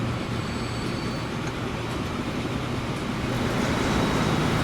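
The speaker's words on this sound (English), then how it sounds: "That train comes across, that's one slows down, and then that's one passes through." A train passes on a railway in the Transport Fever 2 video game, making a steady, dense rumble that holds at an even level throughout with no talking.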